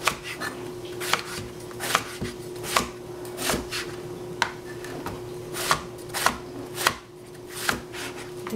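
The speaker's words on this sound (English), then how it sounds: "Cut the third eggplant." A knife chops eggplant on a cutting board in sharp, irregularly spaced strikes, each a distinct crisp thud, close and clear over a steady low background hum.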